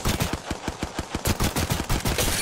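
Rapid automatic gunfire in a shooter game, a close, loud stream of evenly spaced shots that briefly pauses and then resumes in a second fast burst.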